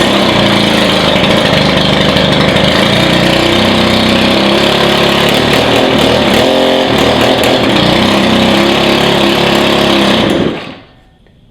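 A Stihl FS110R string trimmer with a newly repaired fuel primer bulb, its small engine running loud and close at a steady buzzing idle for about ten seconds before shutting off abruptly.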